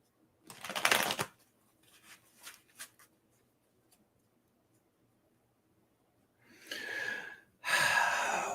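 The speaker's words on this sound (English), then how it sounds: "Let me get another shuffle." Tarot cards being shuffled by hand, a short riffle burst, then soft scattered card taps and a quiet pause, followed by two longer riffling bursts near the end, close and fairly quiet.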